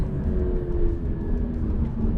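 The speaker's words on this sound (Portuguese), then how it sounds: "Olha o ronco desse carro." A Porsche 911 Turbo S 992.2 with PDK transmission rumbles on a wet track, a low, steady engine drone heard for a brief moment with no speech over it.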